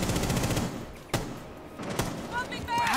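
Rainbow Six Siege gameplay with a couple of sharp gunshot cracks standing out over a muffled, busy game background, while players talk.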